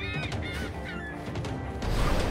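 Honking goose-like bird calls from the Tower of Fantasy video game, several repeated cries close by over a steady game soundscape, with no talk.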